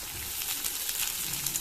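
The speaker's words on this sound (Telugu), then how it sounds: "ఇక ఉల్లిగడ్డలు వేస్తున్నాం." Onions sizzle steadily in an iron pan, a continuous close hiss of frying with no voices.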